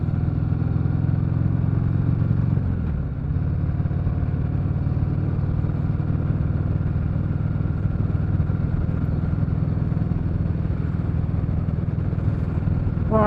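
Harley-Davidson Sport Glide motorcycle cruising on roads in Surrey, England, its engine a steady, loud, low rumble with a brief dip in revs partway through, heard close up with no talking.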